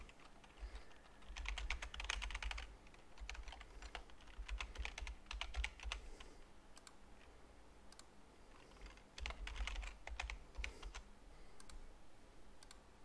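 Fingers type on a computer keyboard in quick bursts of clicking keystrokes with short pauses, close and fairly quiet, with no talking.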